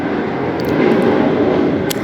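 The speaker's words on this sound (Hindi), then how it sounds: "और बाहर हवाई जहाज़ जा रहा है" An airplane passes overhead outside a home, a steady broad rumble that holds at an even, fairly loud level for about two seconds with no one speaking.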